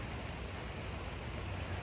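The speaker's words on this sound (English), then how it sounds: "since this morning it hasn't stopped raining" Steady rain falls at a campsite where bears and mosquitos are about, a constant soft hiss of drops on surfaces, fairly quiet and unbroken, with no voices.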